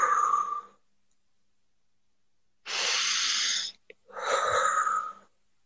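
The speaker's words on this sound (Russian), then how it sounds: "Вдох через нос, выдох через рот." Deep breathing during a counselling session: a long, forceful exhale, a brief pause with a small catch, then another long breath out, each rough and wheezy, close and alone.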